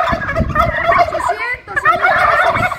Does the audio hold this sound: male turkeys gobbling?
yes